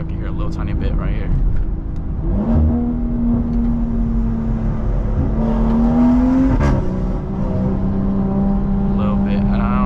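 A BMW B58 engine and exhaust echoing inside a tunnel, heard from the cabin as a continuous loud drone with two rev rises and a sharp blip midway.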